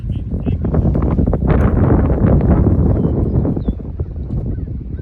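Strong wind buffets the microphone in heavy, rumbling gusts, with faint honking birds in the distance.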